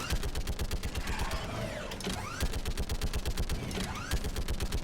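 Rapid, continuous turret gunfire from the video game Mass Effect 3, with a steady rhythmic rattle of shots, loud and close, plus occasional whooshing impacts layered over it.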